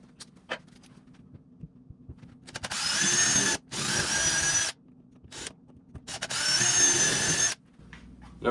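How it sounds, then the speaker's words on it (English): Power drill boring holes into a door for a chain guard bracket, three sustained bursts of whirring drilling a few seconds each, close and loud, separated by quiet pauses with small handling clicks. "where we want to drill."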